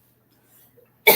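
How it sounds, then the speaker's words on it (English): Near-silence, then a single sharp, loud cough bursts out right at the end. "apologies for the cough"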